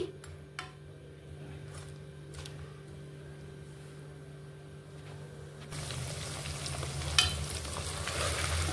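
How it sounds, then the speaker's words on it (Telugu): Ingredients for gongura chicken pachadi frying in oil over a medium flame, a quiet sizzle with a few light clicks that swells into louder, fuller frying in the final seconds. "ఇప్పుడు గ్యాస్ మీడియం ఫ్లేమ్లోనే ఉంచుకొని ఇవన్నీ కొంచెం ఫ్రై అవ్వాలండి"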